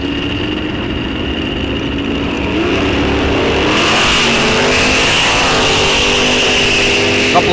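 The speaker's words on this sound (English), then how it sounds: "Couple of good launches by both cars." Two drag racing cars, including a Malibu, launch off the line at a bracket racing strip, engines rising from a loud idle into a roaring, swelling acceleration that fills the clip.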